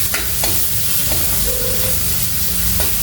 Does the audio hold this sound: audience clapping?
no